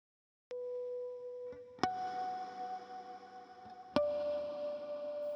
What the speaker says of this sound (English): guitar 1 also plays some harmonics in the pre-chorus E section